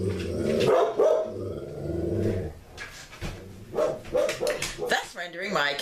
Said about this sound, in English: The dog must bark while I work.